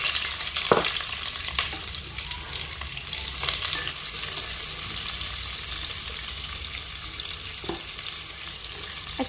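Chopped large onion sizzling steadily in hot oil for vegetable biryani, a continuous close frying hiss with a few faint clicks, no talking.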